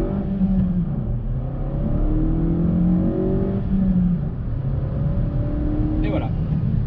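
A Suzuki Swift Sport engine revs hard as it accelerates from standstill to 100 km/h, its pitch climbing, dropping at each gear change, then climbing again, close and loud.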